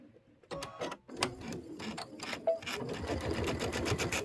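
A sewing machine stitches through pillow fabric at close range, its needle chattering in quick rhythmic bursts that start, pause briefly, then settle into a steady run.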